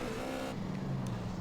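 Cars in GTA San Andreas rush past with a loud steady engine roar close by, the pitch shifting as they pass, with no talking.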